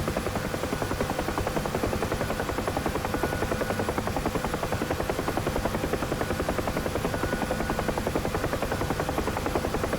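Steady, continuous helicopter rotor and turbine drone from a flight simulator game, with a rapid even chop that stays loud and unbroken throughout, with no talking.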